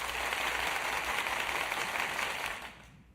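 Built-in StreamYard applause sound effect: a dense, steady wash of crowd clapping lasting about three seconds before fading away, with no voices.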